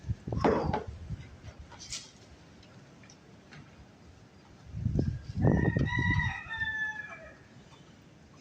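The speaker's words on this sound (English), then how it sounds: "my rooster's out there not happy" A backyard rooster crows twice, once briefly near the start and again in a longer drawn-out call later, moderately distant and clear against quiet outdoor background.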